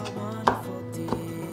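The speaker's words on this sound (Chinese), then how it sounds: "把番茄切小丁" A knife dicing tomato into small pieces on a cutting board, two distinct chops about half a second apart over a quiet background, close.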